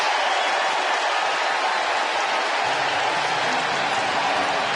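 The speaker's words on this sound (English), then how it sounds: "Crowd going to give it to Pujols a little bit." A large crowd at a Cardinals versus Reds baseball game in Cincinnati reacts to Pujols with a loud, sustained roar and clapping that stays dense and even throughout.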